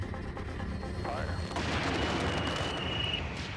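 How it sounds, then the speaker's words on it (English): A rocket fires from a carrier aircraft in flight, a sudden loud roaring blast that swells and sustains over steady engine drone. "Pilot Brian Binney fired the rocket."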